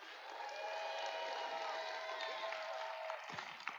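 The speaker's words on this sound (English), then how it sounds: "And another big round of applause for our generous sponsors." A crowd at a FIRST Tech Challenge robotics league tournament in Northern Nevada claps and cheers steadily for the volunteers, fairly faint and distant, with scattered whoops rising from the applause.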